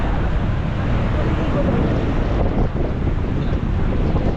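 Continuous rushing surf and wind on a beach fill the whole stretch, a broad steady roar of waves reaching toward a volleyball net, with gusty buffeting on the microphone and no distinct breaks.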